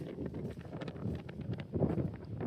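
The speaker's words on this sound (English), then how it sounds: "whew, nice wind" Wind blowing on a mountain trail in the Appalachians, a low, gusty roar buffeting the microphone in uneven surges, fairly faint.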